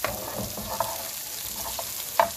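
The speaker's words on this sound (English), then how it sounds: "So just cook it on medium-high heat until those peppers start to soften." Peppers fry on medium-high heat in a pan for a shrimp pasta, a continuous close sizzle broken by a few light clicks of a utensil, with no talking.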